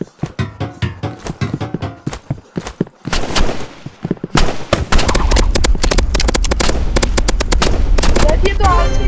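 Gunfire in the Roblox game Rivals, loud and close: rapid irregular shots give way to a dense, continuous roar of firing and blasts.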